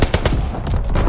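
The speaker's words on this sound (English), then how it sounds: "Firing division artillery." Heavy artillery and gunfire in the World War II shooter Call of Duty: WWII, a dense run of repeated loud blasts and bursts in quick succession, close and continuous with no talk.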